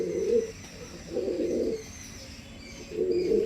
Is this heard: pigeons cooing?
yes